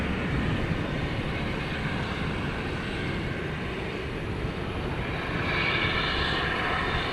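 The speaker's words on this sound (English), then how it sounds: "We've got a FedEx coming in on the east side." A FedEx cargo jet arrives at DFW airport at night, a steady distant engine rumble and broadband roar that swells slightly toward the end, with no talking.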